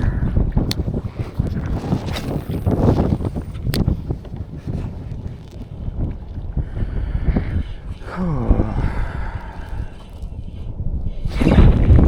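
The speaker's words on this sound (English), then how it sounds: "Maybe due to it being a little windy out here." Steady wind buffeting the microphone outdoors over shallow saltwater from a kayak, with a low rumbling roar and occasional gusts, no talking.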